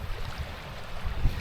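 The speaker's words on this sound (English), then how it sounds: "that wind's really starting to pick up" Wind gusting against a small sailing kayak on open water near a little island, a steady low rushing roar with buffeting swells, close and fairly loud throughout.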